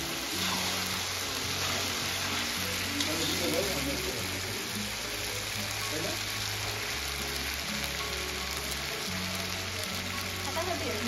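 Meat fries in oil in a pan just after ginger-garlic paste goes in, a dense, loud sizzle that runs without a break. A voice talks over it the whole time.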